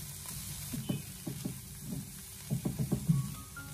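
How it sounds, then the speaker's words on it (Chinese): Cabbage and shredded carrot stir-fried over high heat in a wok after eggs, for chow mein: a faint sizzle under uneven bursts of spatula scrapes and tosses, quiet and without speech. "紧接着再把切好的包菜还有胡萝卜丝放进来， 然后再立刻的将火候调为大火，给它快速的翻炒一下"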